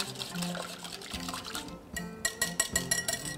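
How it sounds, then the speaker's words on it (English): A whisk beats a buttermilk mixture for gluten-free Irish soda bread in a bowl, moving from a wet swishing into a quick run of rhythmic taps against the bowl near the end. "And then we'll take our whisk and combine that."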